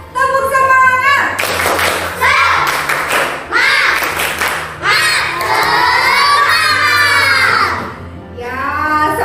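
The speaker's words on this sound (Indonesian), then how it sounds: "kita tepuk semangat dulu ya. Ya. Tepuk semangat." A classroom of children performs a rhythmic spirit clap, bursts of patterned clapping mixed with loud shouted chants and cheering, close and energetic, with a teacher's voice leading between rounds.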